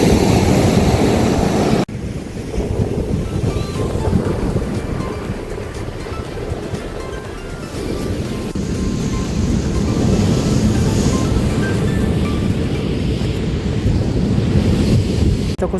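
Rough sea waves break and wash continuously onto a beach, a loud, steady roar of surf with gusts of wind buffeting the microphone throughout.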